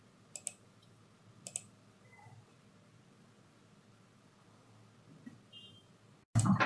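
Two sharp, close computer mouse clicks early on while setting up a virtual machine, followed by a quiet room hum and a brief louder burst at the very end.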